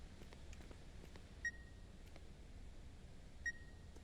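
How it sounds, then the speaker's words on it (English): Two short electronic beeps sound about two seconds apart in a horror video game where an animal hangs from a rope, each a brief clear tone over a quiet, steady ambient hum. "What is that beeping sound?"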